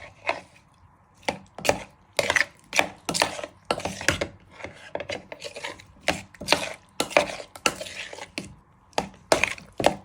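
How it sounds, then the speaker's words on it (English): Prawns are tossed and stirred in a bowl of ginger, garlic, honey and soy sauce marinade, a run of sharp, close, irregular scrapes and wet clatters separated by short pauses. "So you're giving them all a good toss in with your ginger, garlic, honey and soy sauce."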